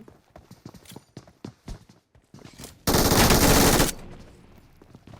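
Gunfire in the mobile battle game PUBG Mobile: a quick run of separate shots, then a loud, dense burst lasting about a second, fading into a softer tail.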